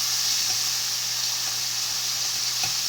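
Chicken pieces seasoned with salt and pepper sizzle steadily as they brown in a frying pan for orange chicken, a constant close hiss with faint clinks and a few soft stirring taps.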